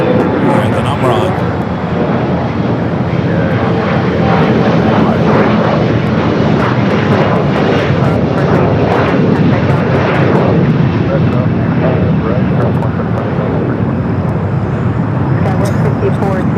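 A SkyWest jet airplane departing LAX roars steadily and loudly throughout, with people talking and radio chatter over the engine noise.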